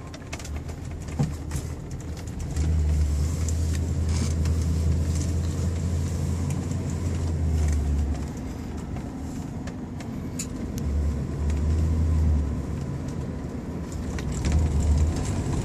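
1977 Pontiac Grand Prix SJ cruising down the road, a soft steady low engine and road rumble from inside the car, with faint swelling drone and birds cooing outside.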